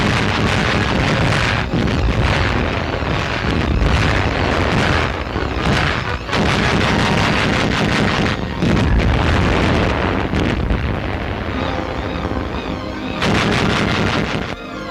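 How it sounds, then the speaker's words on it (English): Anti-aircraft machine guns and rapid-fire Bofors guns firing in North Africa, a loud continuous barrage of booms and rapid bursts with dense overlapping reports throughout. "Anti-aircraft machine guns are backed up by rapid-fire Bofors guns,"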